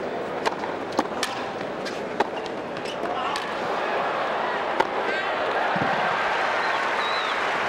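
Spectators in a crowd at a 2002 US Open quarterfinal tennis match between Sampras and Roddick make a sustained roar of cheering and noise, mixed with sharp claps, thuds and scattered shouts, building toward the end.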